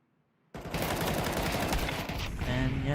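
Sustained bursts of automatic gunfire erupt suddenly after a quiet start and stay loud and continuous, wall-banging shots in a Counter-Strike esports match, with a commentator's voice faintly underneath.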